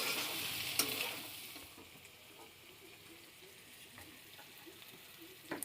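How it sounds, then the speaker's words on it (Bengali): Chow mein vegetables with Maggi masala are stirred in a frying pan, a faint steady sizzle with a few soft scrapes and taps of the utensil, one sharper clink near the start, no voices. "এবার ভালো করে নেড়ে নিই।"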